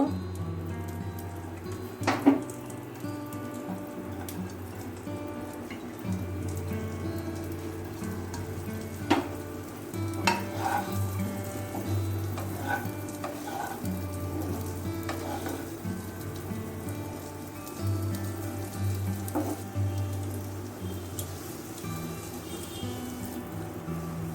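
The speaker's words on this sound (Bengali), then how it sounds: "এই যে এখন আমি এই গুটিগুলো ঘিয়ে ভেজে নেব ঘিয়ের মধ্যে লাল লাল করে ভেজে নেবো" Small dough balls for darbesh laddu deep-frying in ghee give a steady bubbling sizzle throughout, close up, with a few sharp clinks and stirring taps scattered over it and no talking.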